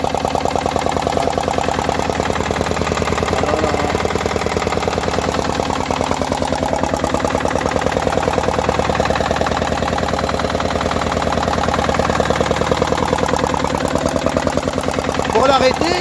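A faulty 450 plate compactor's engine runs with a loud, steady, rapidly pulsing rumble that holds unchanged from start to finish.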